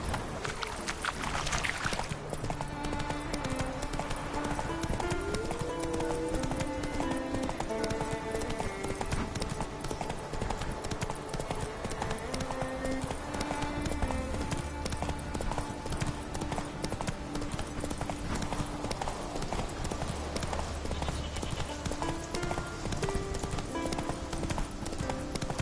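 Hooves clip-clop in a fast, steady galloping rhythm as the horse Roach runs in The Witcher 3: Wild Hunt, alongside game music and ambience, with brief speech-like sounds at times.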